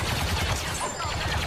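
Blaster gunfire in the Star Wars Battlefront 2 video game, a rapid burst of repeated shots over game noise, short and fairly loud.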